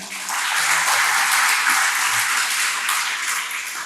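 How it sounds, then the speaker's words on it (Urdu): Audience applause at a scholarship-awarding ceremony at a college in Chakwal, a dense wash of clapping from many hands that fills the whole stretch at steady, loud level with faint talk underneath. "ان کے لیے بھی بھرپور تالیاں"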